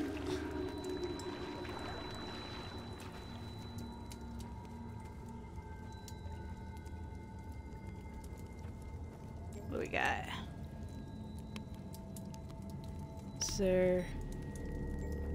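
Splashes through rainwater puddles in The Solus Project video game, a low watery ambience with two sharp splashing bursts, one midway and one near the end, and someone talks over parts of it.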